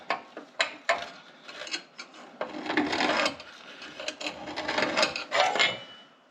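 A sharpened tungsten point scratches a line across metal for a 1991 Land Rover Defender 90 seat belt bracket repair, a series of close, scraping strokes with sharp onsets, some short and some drawn out.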